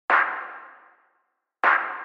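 A single layered snare drum sample, heavily bandpass filtered, struck twice: a bright, sharp hit ringing out for nearly a second, then a repeat after a gap of silence.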